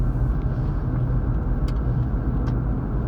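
Steady rumble of passing traffic heard from inside a vehicle on the road, a car moving into the adjacent lane with continuous low engine and road noise and no talking.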